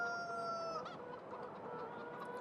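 Chickens cluck in a coop in the farming video game Farming Simulator 2013. The fairly quiet clucks are steady and repeated, with no talking over them.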